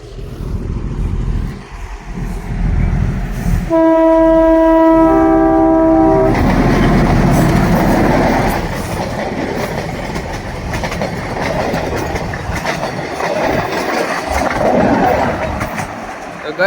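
A train horn blasts for a few seconds, then a loud, steady rumble of a train rolling past close by, with voices talking over it.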